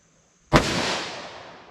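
A single loud .357 Magnum shot from a short-barrel revolver with Barnes TAC-XPD ammunition: a sharp, close blast with a ringing decay that fades over about a second.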